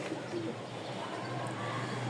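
A pair of tumbler pigeons coo softly and steadily nearby against a constant background hum.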